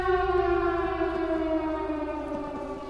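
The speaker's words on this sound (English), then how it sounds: "the ominous siren that just started going off" A long, wailing siren from the video game Silent Hill drones steadily, its tone slowly sliding downward, loud and ominous with nothing else over it.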